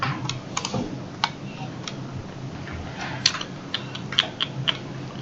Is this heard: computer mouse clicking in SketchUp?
yes